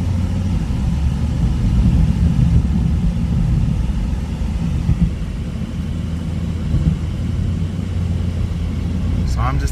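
A Ford Focus drives along a back road under normal driving, its low steady engine and road rumble continuous and fairly close throughout, with a small click near the end.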